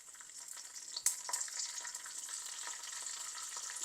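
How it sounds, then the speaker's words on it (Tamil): Mustard seeds, fenugreek and curry leaves sizzle and crackle steadily in hot oil in a clay pot, with a sharp pop near the start and continuous close frying hiss throughout. "கடுகும் சேர்த்துட்டேன் வெந்தயமும் சேர்க்குறேன் இப்போ இதுக்கு நான் கருவேப்பிலை ரொம்ப சேர்க்குறேன்"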